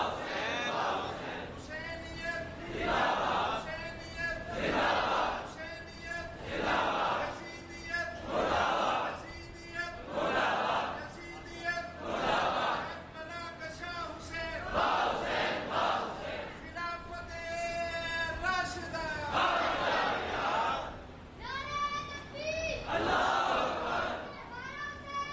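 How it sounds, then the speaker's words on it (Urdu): A large crowd at a Sunni religious conference chants slogans in loud call-and-response waves, a leading voice answered again and again by many voices in a steady rhythm. "میری تقریر میں ایک جگہ نعرہ لگا"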